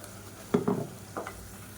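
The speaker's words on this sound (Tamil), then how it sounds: "சேர்த்துட்டு இதையும் பச்சை வாசனை போக ஒரு 2 நிமிஷம் வதக்கி விட்டுக்கலாம்." Ground paste sautéed in a pan for kulambu makes two short bursts of stirring and sizzling, then a softer scrape, close and moderately loud.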